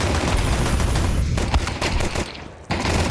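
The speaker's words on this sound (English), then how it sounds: "And those dual Berettas hit hard." Rapid dual Beretta pistol fire in Counter-Strike 2 during a pro esports match, a dense continuous burst of shots loud throughout with a brief dip near the end, no voices.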